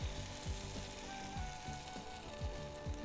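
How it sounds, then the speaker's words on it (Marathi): Batter-coated paneer deep frying in hot oil, a faint steady bubbling hiss with soft irregular crackles, no voices present. "पनीरला असं कोट करून डीप करायचं या स्लरीमध्ये आणि इथे फ्राय करायला ठेवायचं"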